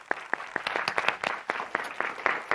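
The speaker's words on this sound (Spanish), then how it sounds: "Un aplauso para él" Studio audience on a Spanish television quiz show bursts into applause, a dense run of sharp claps sustained steadily throughout, loud and close with no talk over it.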